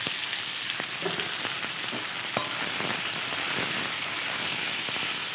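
Chopped onions hit hot oil already tempered with cinnamon and cardamom, giving a steady, close, broadband sizzle with faint crackles throughout, no voices over it.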